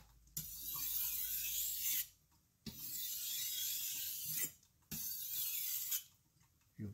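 Knife blade drawn across a 1000 grit whetstone in three gentle, rhythmic rasping strokes, each about one and a half seconds long with short pauses between, close and fairly quiet.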